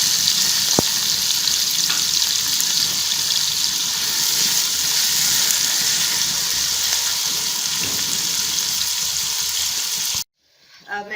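Vegetables with garlic, ginger and tomato sizzling steadily in hot ghee for aloo gobi, a loud continuous crackle with occasional stirring, cutting off abruptly near the end to a short quiet clatter.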